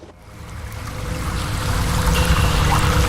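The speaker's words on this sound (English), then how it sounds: "There's water. Lots of water." Rushing water in Baldur's Gate 3 swells from quiet to a loud, steady, broadband roar, with churning and splashing throughout and no voices.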